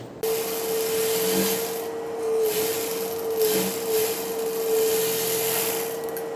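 Electric sewing machine stitching a Semi Patiala pant, a steady close motor whine running almost continuously with slight surges and brief dips as the fabric is fed, no voices.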